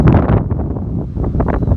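Strong gusting wind buffeting the microphone in the Salinas River valley on a clear afternoon, a loud, rough rumble that swells and eases over a couple of seconds.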